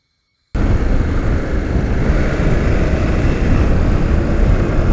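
A KTM 1290 Adventure R motorcycle being ridden: after a half-second of silence, a loud, steady roar of engine and wind rushes in and holds constant, with no talking.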